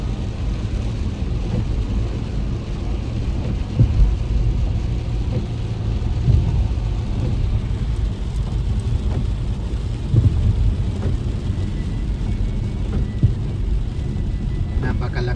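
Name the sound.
heavy rain and thunder in Riyadh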